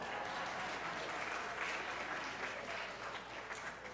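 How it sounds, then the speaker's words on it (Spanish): A church congregation at a Spanish-language Sunday service breaks into sustained applause, a full, even rush of many hands clapping at once that fills the room without letting up. "Pueden aplaudir si quieren aplaudir."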